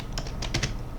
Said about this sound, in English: So I want to type in